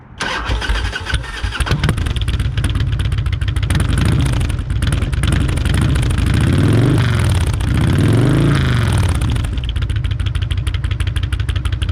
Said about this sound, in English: this bike does have true dual headers on it. Gives it a nice exhaust note.